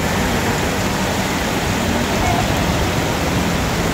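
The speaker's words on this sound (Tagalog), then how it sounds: "Sobrang lakas ng ulan." A dense, unbroken roar of heavy rain during a flooding downpour, loud and constant, with no pauses or distinct drops standing out.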